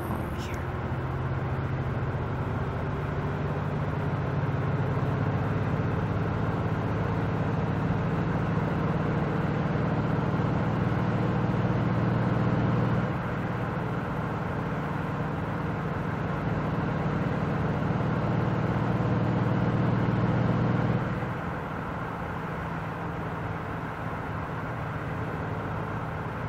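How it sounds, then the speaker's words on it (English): A pickup truck engine in the driving game Motor Town drones steadily while cruising on a highway, a constant hum that shifts pitch twice as the truck changes speed; no voices are heard. "This is only a pickup truck, but the engine noises are pretty good."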